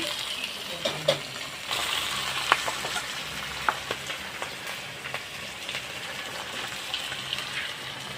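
Parshe fish sizzling in a pan gives a steady frying hiss dotted with sharp pops and crackles, moderately quiet, with no one speaking.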